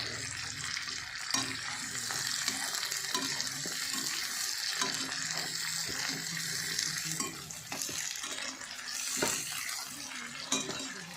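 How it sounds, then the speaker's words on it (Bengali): Onions fry in a pan with a constant hissing sizzle while a spatula stirs them, adding irregular scraping and clinking against the metal, close up and with no talking. "পেঁয়াজগুলো দিয়ে আমি ভালো করে নাড়িয়ে নেব।"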